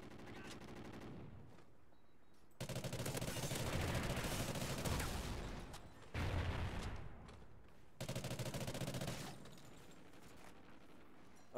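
A submachine gun in Call of Duty: Ghosts fires in three long, loud bursts of rapid gunfire, separated by short quieter gaps.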